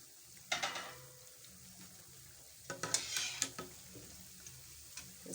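Nigerian puff puff dough frying in hot oil is stirred, giving quiet sizzling and scraping. Two bursts of close stirring clatter stand out, each a short run of sharp ticks against the pot.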